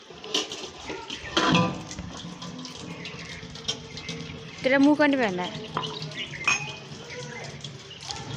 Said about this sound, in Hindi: यहाँ पे बर्तन भी धो रहे हैं हम लोग